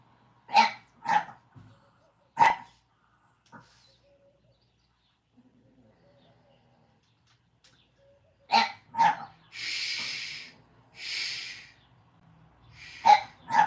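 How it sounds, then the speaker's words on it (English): A dog barks in sharp bursts, a few single barks then a quick cluster later, with quiet stretches between and some breathy noises. "No, stop barking. He barks all the time."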